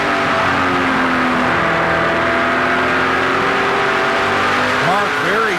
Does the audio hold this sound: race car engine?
yes